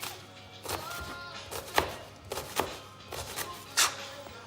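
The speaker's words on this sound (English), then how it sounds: "you cut really fine lines the whole way along the onion" Knife cutting an onion into fine strips on a cutting board, a handful of quiet, irregular taps and slices spaced about a second apart, close by and without talk.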